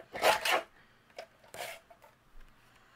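A paper trimmer slices through card paper in a couple of quick rasping strokes, with a louder cut near the start, then a second cut, and small sliding and tapping sounds around them.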